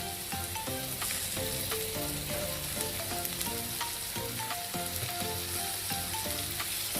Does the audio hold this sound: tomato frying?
yes